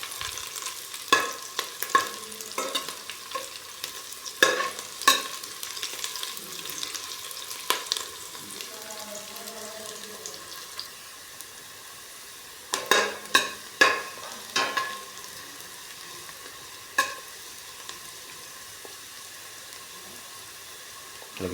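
Chopped garlic sizzles in oil in a pan while a utensil stirs and scrapes it, giving a steady fry with irregular clattering strokes that pause midway and then resume, close up.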